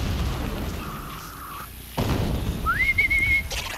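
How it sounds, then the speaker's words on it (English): Two short, clear whistles lure a machine in the video game Horizon Zero Dawn Remastered, the second slightly higher and wavering, with a dull thud between them over a steady low game ambience. "Let's whistle him over."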